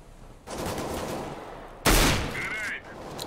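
Rapid bursts of gunfire in Counter-Strike: Global Offensive, loud and close, with a sharp, strong shot near the middle standing out against a steady roll of firing.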